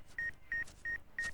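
A mobile phone is dialed: four short, even electronic keypad tones in a steady rhythm, each a clean beep separated by brief pauses, heard close and alone.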